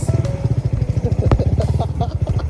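A Yamaha Sniper motorcycle ridden off-road on a dirt trail during break-in, its engine putting out a close, throbbing, uneven rumble with rattling clatter over the short run.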